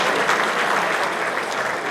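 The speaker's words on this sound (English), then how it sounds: "Let's give this panel a big round of applause." Steady, loud applause from a reception audience for a panel, dense clapping sustained throughout with no individual voices standing out.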